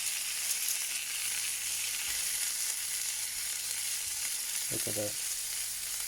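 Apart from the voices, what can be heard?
venison steaks frying in butter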